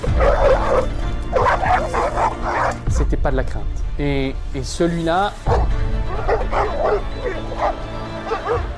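Someone talks, then a dog lets out a quick run of sharp barks and yelps before his speech resumes.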